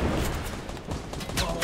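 Gunfire in the video game Fortnite, a rapid string of close, sharp shots and booms packed into a short burst, with no one speaking over it.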